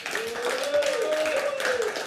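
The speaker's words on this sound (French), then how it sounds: "On peut encore les applaudir bien fort une nouvelle fois" A television contest audience applauds for departing candidates, steady clapping heard under a voice talking throughout.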